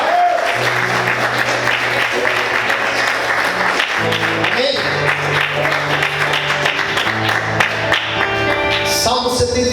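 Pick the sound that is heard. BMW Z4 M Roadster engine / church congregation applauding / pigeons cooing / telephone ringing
church congregation applauding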